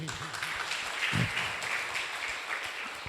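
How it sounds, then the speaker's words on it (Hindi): Audience applause at a Hindi lecture, a steady wash of many hands clapping at moderate loudness throughout, with a brief low voice murmur in the middle. "आप जब ताली बजाते हैं तो कस के बजाइए"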